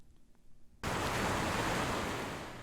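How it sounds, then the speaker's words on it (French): Ocean waves breaking on a beach, a loud, steady rush of surf that cuts in abruptly after a quiet opening and holds broad and continuous to the end. "Le bruit des vagues"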